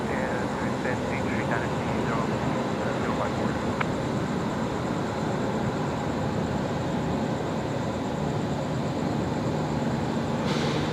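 An airplane at Brisbane Airport gives off a loud, continuous broadband roar that holds steady throughout, with no break or clear rise in intensity.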